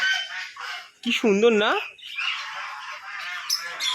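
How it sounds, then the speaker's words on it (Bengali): Ducks give a loud, honking quack from close by, a single drawn-out call in the middle while someone talks before and after it. "ফাইনালি দেখো কি সুন্দর সুন্দর হাঁসগুলো"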